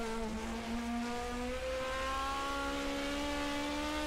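1979 Group 5 racing cars of the DRM Division 2 at the Mainz-Finthen airfield race, engines droning and revving steadily at a distance, a continuous high-pitched whine that rises gradually in pitch.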